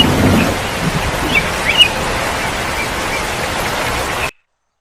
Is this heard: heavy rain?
yes